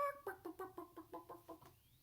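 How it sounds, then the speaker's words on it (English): A chicken clucks in a quick run of about nine rhythmic, tonal clucks, fairly faint and close, trailing off at the end with no talking. "I saw a chicken last time I went to the farm."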